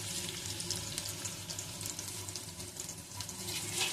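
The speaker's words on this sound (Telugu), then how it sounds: "ఆయిల్ వేగిన తర్వాత ఇందులో ఆనియన్స్ అండ్ పచ్చిమిర్చిని వేసుకొని బాగా వేయించుకోవాలి" Chopped onions and green chillies fry in hot oil in a pan, giving a loud, steady sizzle and crackle that runs without a break, close up and with no voices.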